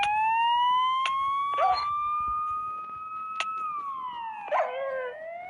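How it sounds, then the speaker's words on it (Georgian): Siren Head siren from a video game, a long rising wailing tone with harmonics that dips near the end, sounding alone at steady volume with brief clicks. "აქ არის სირენა ჰიადი."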